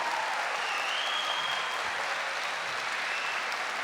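A church congregation claps together in sustained, dense applause, steady and fairly loud throughout the short span with no pauses or voices over it.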